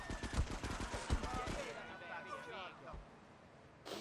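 Quick rattling gunshots in Grand Theft Auto 3 open the moment, fading out after about a second and a half into quieter game ambience, faint and muffled.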